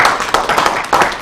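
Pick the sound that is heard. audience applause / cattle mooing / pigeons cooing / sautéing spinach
audience applause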